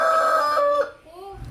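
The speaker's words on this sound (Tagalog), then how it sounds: "O diba, may patilaok pa siya." A rooster crowing in a rural provincial yard, one loud, close, drawn-out crow that breaks off sharply near the end, followed by a faint trailing call.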